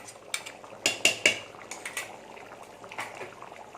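A metal spoon stirs and scrapes thick mutton kulambu gravy in a cooking pot, giving a few sharp clinks near the start and then softer scraping over a low simmering background. No one speaks.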